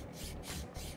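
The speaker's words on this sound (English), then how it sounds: "we're just going to gently go across both ways until we remove any of the drill flashing" A file is drawn gently back and forth across drill flashing on a carbon bike frame, giving a close, steady rasping rub in repeated strokes that swell and fade.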